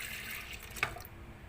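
Milk poured into a grinder jar while making a banana and apple cake, a short faint trickling liquid sound with a small splash near the end.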